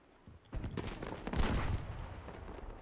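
A rapid burst of Battlefield V gunfire erupts after a quiet moment, loud close shots layered with echoing distant fire and a tank nearby in the battle.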